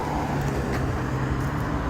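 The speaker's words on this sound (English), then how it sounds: "You can hear cars outside." Cars drive by outside on a street, a steady broadband traffic wash with a low engine hum, continuous and moderately loud with no talking.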